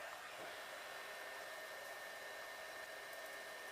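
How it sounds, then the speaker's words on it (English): A Nano hair dryer blows steadily and close during a salon blowout, giving a constant, even rush of air and motor whine for the whole stretch with no talking. "If any of you have worked with the nano dryer before, you'll know how lightweight it is."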